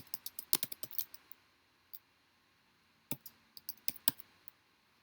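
Quick bursts of key clicks from a PC computer keyboard, close and crisp, typed in two short flurries separated by a pause in a quiet room.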